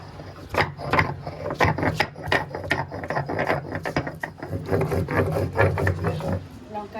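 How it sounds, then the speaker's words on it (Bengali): Ginger and green chili are ground on a grinding stone, giving a rhythmic run of close, loud scraping and rubbing strokes that continues without pause for about seven seconds. "এইবার আমি মাছের জন্য এই আদা আর লঙ্কা বেটে নেব"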